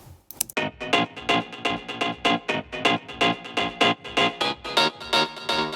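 An Energy Stab sample at normal playback speed, the speed-slowing knob switched off, in an underground house production: a steady train of about eighteen short, bright, rhythmic synth stabs at an even pulse, alone and clear.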